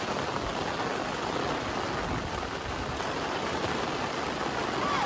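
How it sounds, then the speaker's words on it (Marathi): Heavy rain falls steadily over farm fields, a dense, even hiss that holds unbroken and loud throughout. "हे बघा अजून पाऊस पडतोय."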